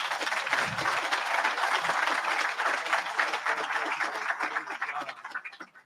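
Sustained applause from a graduation ceremony audience, a dense wash of many hands clapping at steady volume that tapers off toward the end, with a brief low murmur near the start.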